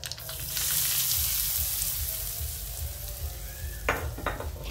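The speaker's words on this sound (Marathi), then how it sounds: "आपण आधी मोहरी टाकून घेऊ, कढीपत्ता टाकू, थोडंसं हिंग टाकू" Mustard seeds, curry leaves and asafoetida sizzle in hot oil for a tempering poured over raw mango chutney, a steady frying hiss with a few sharp pops near the end.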